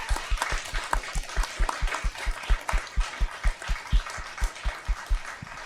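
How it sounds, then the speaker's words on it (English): A small audience at a school district governing board meeting claps for school nurses who earned National Board Certification, the claps coming in a steady, fairly even rhythm at moderate loudness. "Let us give them a round of applause."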